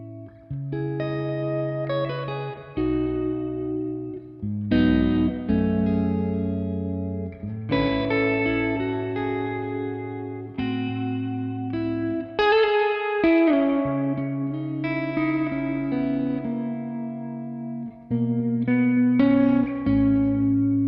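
An electric guitar plays chords and single notes through a handwired Bad Cat Cub V amp with reverb, giving a clean-to-crunchy tone. The sustained notes ring out alone with a lush reverb tail, and the playing is steady and fairly loud.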